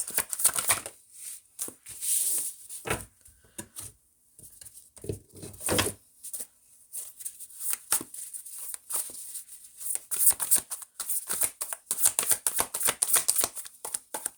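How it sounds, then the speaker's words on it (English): Cards are riffled and shuffled in irregular bursts of crisp flapping and snapping, close up, with short pauses between attempts. "I can't shuffle these"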